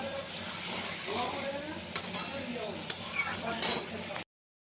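Pointed gourd, already fried in oil, is cooked down with yogurt in a pan. A steady sizzle runs throughout, broken by stirring scrapes and a few sharp clicks of a utensil against the pan.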